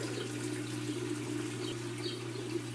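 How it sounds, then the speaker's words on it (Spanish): Maytag Netupne TL top-load washing machine draining water during a spin test, a steady low rushing and gurgling flow with a constant hum, continuous and fairly quiet, no voices. "Como la máquina tiene agua, la está drenando."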